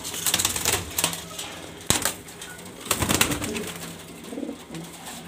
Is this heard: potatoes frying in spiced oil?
no